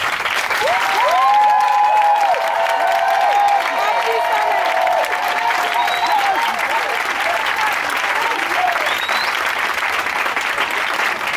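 A church congregation applauds and cheers the Lord even louder, with sustained heavy clapping, whoops and high whistling tones riding over the crowd.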